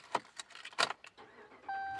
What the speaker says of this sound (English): Okay, let's start her up here. So key in the ignition,